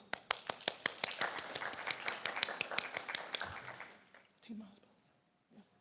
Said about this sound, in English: So a round of applause to all the teachers.